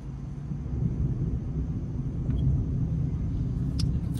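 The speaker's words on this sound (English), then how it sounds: "I love hearing the thunder, y'all." Low, continuous thunder rumbles faintly from an approaching storm as the sky darkens over a store parking area, a steady distant roar with no other clear sounds.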